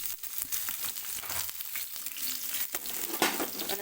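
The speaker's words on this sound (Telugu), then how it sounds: "మనకు ఆనియన్స్ అనేవి కొంచెం కలర్ చేంజ్ అయ్యే వరకు వేగనివ్వాలి" Chopped onions fry in a spoonful of oil in a kadai, giving a continuous crackling sizzle with small pops and stirring scrapes throughout.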